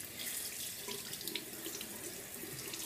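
Tap water runs steadily into a sink as soap is rinsed off, a continuous close splashing hiss with small bubbling variations and no talking.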